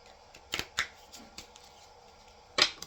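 Neon Love Oracle tarot cards shuffle in a few soft, quick riffles and snaps, close and quiet, separated by short pauses.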